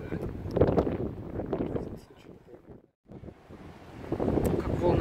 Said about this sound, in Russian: Как волны красиво захлестывают.